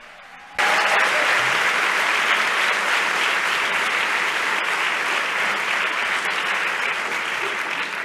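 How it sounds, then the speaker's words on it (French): Audience applause at a high-level opening plenary ceremony bursts in abruptly after a brief quiet moment, then holds as a dense, steady, loud clapping wash from a large crowd for several seconds. "Un travail en équipe qui mérite un applaudissement."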